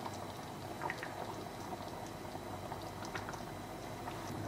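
Goan prawn and potato ambot tik curry boiling in a pot, a steady soft bubbling and simmering heard close but faint, with no talk.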